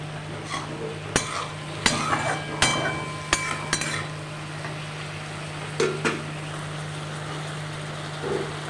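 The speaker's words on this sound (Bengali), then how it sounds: "মশলাটা দিয়ে এবার আবার একটু কষিয়ে নেব" Spice masala stir-fried in hot oil in a pan, with a steady sizzle under repeated sharp scrapes and knocks of a spoon against the pan, nearby and fairly loud.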